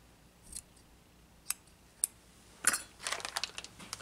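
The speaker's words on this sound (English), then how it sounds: "Scissors." Scissors snip a few times, sharp crisp cuts spaced apart at first, then a quicker flurry of small metallic clicks and snips close up in a quiet room, while working on a Dead Rabbit RDA rebuild.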